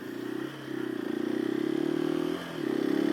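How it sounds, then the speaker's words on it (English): A KTM 500 EXC-F dual sport dirt bike runs at a steady, throbbing pace, its engine drone dipping briefly twice, heard up close from the rider's position. "the KTM line, whether it be the 350 or the 500 like we're on now, is the best street legal dirt bike that you can buy"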